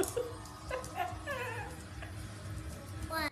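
A dog whimpers and yips in short, high-pitched bursts in a funny animal meme compilation, with a steady low hum and background noise beneath the repeated whines.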